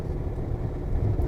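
Campervan with a 140 horsepower engine rolling gently along a misty road with sheep about, a steady low engine and road rumble heard from inside, even and unbroken.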